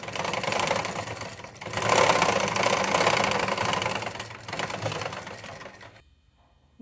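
An electric sewing machine runs in bursts while stitching a blouse, a fast rattling needle clatter that pauses briefly, resumes, then stops abruptly near the end.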